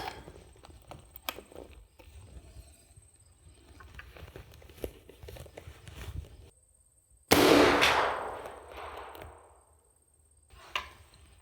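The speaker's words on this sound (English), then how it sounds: "that was pretty much the first firing for our rolling block here" A restored Remington rolling block rifle fires once outdoors, giving a single loud, sharp report with a decaying tail, set among scattered light handling clicks and rustles.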